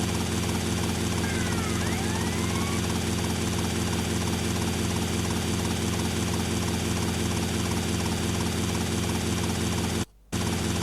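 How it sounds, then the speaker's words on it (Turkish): A helicopter in a modded remaster of GTA Vice City drones on with a steady, loud rotor and engine roar that holds the same level throughout, briefly cutting out near the end. "Helikopter. Helikopterdeyim yakalayana aşk olsun."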